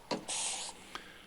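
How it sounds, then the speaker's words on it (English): Clear lacquer sprayed from a can onto handmade wooden coasters for a first coat: a short puff, then a steady hiss for about half a second, then another brief spurt, close and quiet. "A lot more spraying to do, quite a few more coats to do. This is just the first coat going on."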